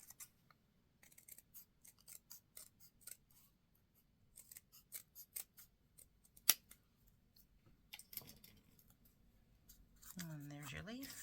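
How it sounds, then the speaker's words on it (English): Scissors snip through thin book-page paper to cut out a leaf shape, a close series of short, crisp cuts in irregular bursts, quiet and alone with no talk. "Go ahead and draw your leaf shape on. And then cut that out."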